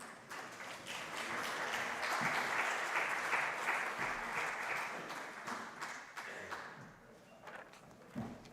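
Sustained audience applause for a startup at a pitch competition, dense steady clapping from a crowd that swells, holds for several seconds, then thins out toward the end.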